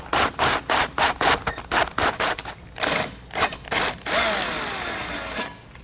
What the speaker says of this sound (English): We got our hole drilled out.